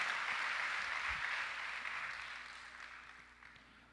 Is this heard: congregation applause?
yes